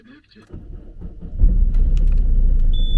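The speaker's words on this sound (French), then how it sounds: "J'espère que ma voiture va démarrer." A car engine starts and then settles into a steady rumbling idle, close by inside the vehicle, with faint jangling of keys near the beginning.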